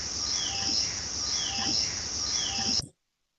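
Busy wildlife soundscape from passive monitoring, with a steady high insect-like drone and scattered faint bird chirps and calls layered over constant background noise, ending abruptly.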